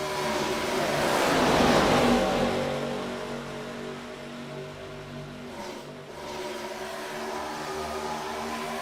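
Race cars roar around the track at the Blackout Arctic Freeze 190, a broad engine drone that swells loudly near the start, then eases into a steadier, more distant rumble.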